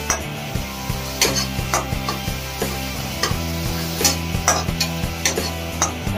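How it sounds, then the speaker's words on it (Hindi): Onion sautéing with a pinch of salt in a pan over a low flame, with soft steady sizzling, a faint low hum and repeated scraping stirs of a spoon against the pan at an irregular pace. "थोड़ा सा नमक, धीमी आंच पे इसको 5 मिनट तक भूनेंगे"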